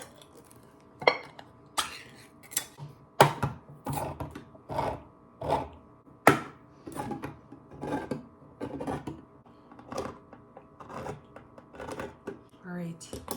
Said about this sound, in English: So I'm gonna start opening the cans.